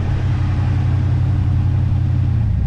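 A revived Ford F100 truck's engine runs steadily at a low, even rumble, close and continuous with no voices over it.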